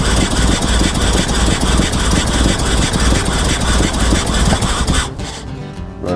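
Small garage engine running rough and loud, its steady chugging drone suddenly faltering and dropping away near the end as it starves of fuel, then sputtering unevenly.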